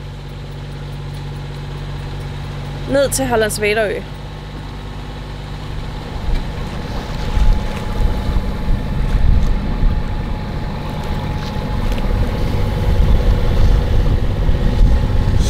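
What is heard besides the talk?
sailboat motoring under engine power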